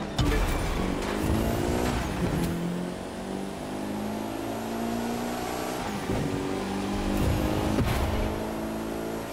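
Car engine in The Crew 2 racing game revs up and down, loud and close, with shifts around two and six seconds and a steady droning run in between.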